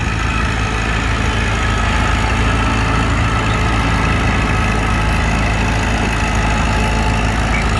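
An antique International Harvester Farmall C tractor engine running at an antique tractor pull, a loud steady low rumble held at a constant pitch throughout, close by with no talk.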